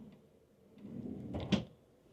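A drawer in a Fontainebleau hotel queen room slides open or shut with a single soft rub and a brief knock, close and fairly quiet against a faint room hush.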